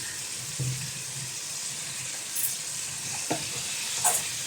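Hot oil sizzles steadily in a wok heating for a beef stir fry, a constant hiss with a few small clinks and taps from a utensil, no talking.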